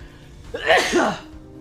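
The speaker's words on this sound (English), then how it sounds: "Whenever I gotta sneeze" A single sharp sneeze bursts out close by, with a quick intake and explosive release, then quiet.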